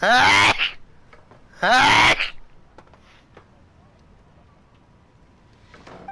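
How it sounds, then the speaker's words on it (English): A video game character sneezes loudly twice about a second apart, followed by quiet scattered clicks and faint background noise. "Excuse me for my sneeze."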